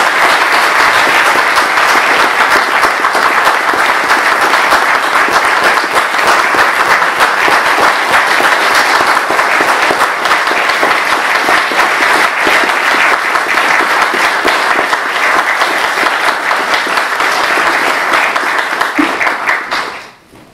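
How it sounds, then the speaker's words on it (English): Sustained, loud audience applause at an Eagle ceremony, dense clapping from a crowd that holds steady for about twenty seconds and then fades quickly at the end. "how about a round of applause for this fine man in the audience today?"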